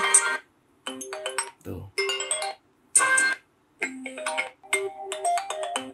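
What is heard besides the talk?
new iPhone ringtone in iOS 26 beta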